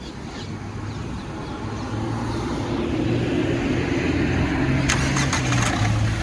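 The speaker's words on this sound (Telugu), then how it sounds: "సింగిల్ సెల్ఫ్లో బండి స్టార్ట్ అవుతుంది సార్." A 2016 Renault Duster RXL automatic cranks and fires up on a single start, then settles into a steady low idle rumble heard close by, with a few faint ticking sounds near the end and no speech.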